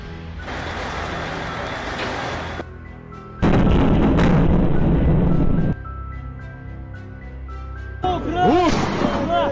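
Wartime footage from a Ukrainian city under Russian bombardment: heavy booming blasts and rumbling artillery fire in loud, dense bursts, broken by a brief lull, with shouting voices and a rising whistle-like tone near the end.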